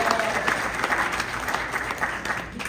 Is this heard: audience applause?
yes